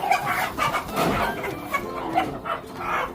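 Fighting cocks at a Filipino backyard sabong cluck and crow over a steady bed of outdoor background noise, moderately close, with a few short vocal bursts spread across the moment.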